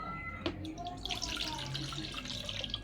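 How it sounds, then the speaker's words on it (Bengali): Bitter gourds are rinsed by hand in water, a short stretch of splashing and trickling with a brief knock near the start, fairly faint and close. "সুন্দর করে উস্তেগুলো ধুয়ে নেব"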